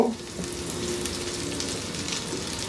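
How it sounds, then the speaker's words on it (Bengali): Garlic cloves and sliced onions fry in hot oil in a wok, giving a steady, close sizzling hiss throughout with no talking. "আমি একটা কড়াইয়ে 2 টেবিল চামচ তেল গরম করে এর মধ্যে 4-5 কোয়া রসুন আর বড় সাইজের 2টা পেঁয়াজ ফালি করে রাখছি, এগুলো দিব।"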